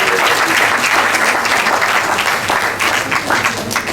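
Sustained, dense applause from a conference audience at a university education event, loud and continuous for the whole stretch with no voices standing out.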